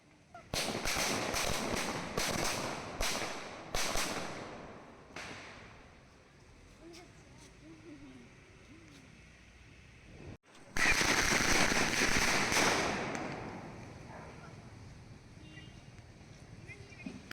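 Diwali firecrackers burst in a loud volley of sharp cracks and crackling rolls, pause, then erupt again in a dense, sustained crackle at a home celebration.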